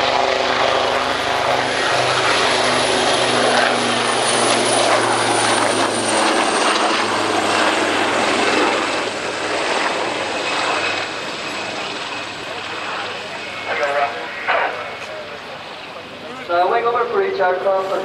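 Black Cats helicopter display team flying at the Royal International Air Tattoo airshow, a steady loud rotor and engine roar that fades slightly and swells again, with a commentator talking over it.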